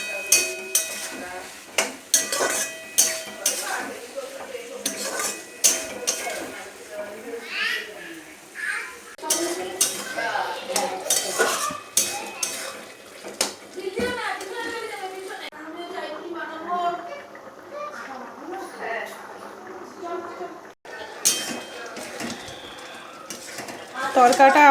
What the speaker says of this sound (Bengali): কষিয়ে নেব মশলার সাথে